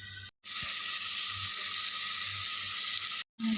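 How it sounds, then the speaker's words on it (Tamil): Onion and tomato frying in a pan give a steady, close hiss and sizzle that runs unbroken, with two brief dropouts near the start and end. "இந்த ஆனியனும் இந்த தக்காளி நல்லா ஃப்ரை ஆகிற வரைக்கும் ஒரு 5 மினிட்ஸ் ஃப்ரை பண்ணி மூடி போட்டு மூடி வைக்கணும்"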